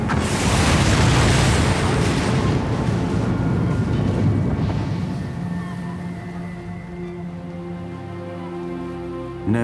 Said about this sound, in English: residents of Peggy's Cove heard a devastating explosion.